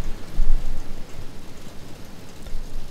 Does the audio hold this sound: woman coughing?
no